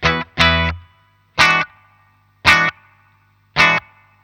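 Stratocaster electric guitar played through a Danelectro Spring King Junior spring reverb pedal: five short, loud chord stabs, each followed by a brief, faint splashy reverb tail.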